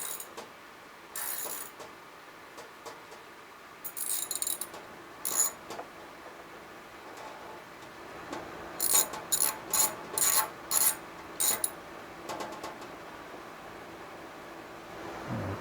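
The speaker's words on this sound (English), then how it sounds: "then you can just use the ratchet, go up under the bumper with your hand and reach under there" A hand ratchet works 7mm bolts holding an RV light fixture up under the bumper, giving short bursts of crisp clicking with pauses between, then a run of about seven quick separate ratcheting strokes, close and fairly loud over a quiet background.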